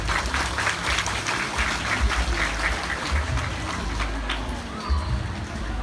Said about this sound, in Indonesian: Kita kasih aplaus buat kita semua.